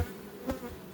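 Honeybees buzz at a hive during honey season, giving a brief, faint steady drone with a slight swell midway.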